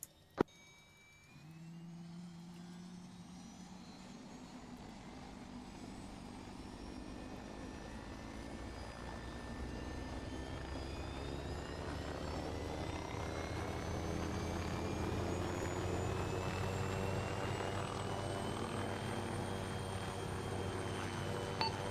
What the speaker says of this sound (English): It seems that they've, spawned in a helicopter,